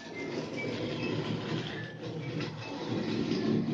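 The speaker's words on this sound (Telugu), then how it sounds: "ఇప్పుడు ఆ వచ్చే ట్రైన్ ఏంటంటే ఆ మెయిన్ లైన్ నుంచి అలా అడిగిపోతుంది అన్నమాట." A model train runs along a track on an automatic track-changing system, making a continuous close mechanical whir and rattle with faint clicking that grows slightly louder toward the end.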